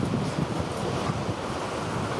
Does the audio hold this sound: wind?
yes